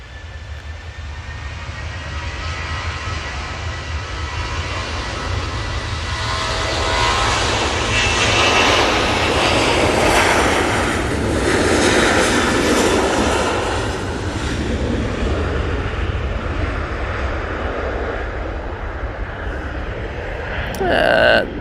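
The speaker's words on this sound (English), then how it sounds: "There we go, Ryanair 737-800 off to Gdansk." A Ryanair Boeing 737-800 jet takes off from Manchester Airport, a broad, steady engine roar that swells through the middle and holds loud, with a voice speaking over it.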